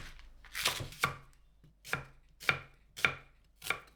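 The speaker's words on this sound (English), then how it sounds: "Cut the greens and tops into chunks" Knife chopping spring onion greens and tops into chunks on a board, roughly eight crisp cuts in an uneven rhythm with short pauses, close and fairly quiet with no talk.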